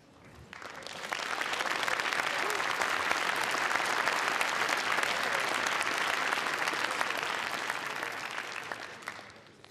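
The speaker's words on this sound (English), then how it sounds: "I like the applause" Sustained audience applause fills a hall at the Startup Awards 2016 ceremony, rising quickly to a dense, loud wash of clapping that holds steady for several seconds before tapering off.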